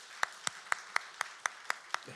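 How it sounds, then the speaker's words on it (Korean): A church congregation claps a blessing in a slow, even rhythm of about nine distinct claps, fairly faint and with no other sound around them. "우리 한번 먼저 축복의 박수하도록 하겠습니다."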